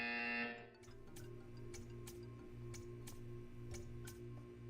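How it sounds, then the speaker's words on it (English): A short electronic buzzer tone from the game Portal 2, then steady, regular ticking pulses over a low humming background. "When you hear the buzzer, stare at the art."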